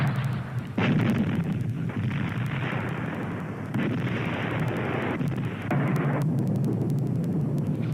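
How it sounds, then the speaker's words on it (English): Artillery bombardment shells trenches at the Somme in 1916, a continuous rumbling barrage of heavy booms and blasts overlapping one another, with sudden louder bursts swelling out of a deep, roaring background. "At the Somme in 1916, they shell the German trenches for a whole week before attacking."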